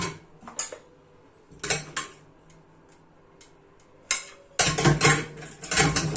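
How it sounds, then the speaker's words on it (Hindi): Pressure cooker parts, including the gasket and whistle, clink and scrape in short bursts with quiet gaps during cleaning, then a longer run of rubbing and clattering near the end. "ये कुकर है, ये कुकर की गैसेट निकाल के साफ करेंगे।"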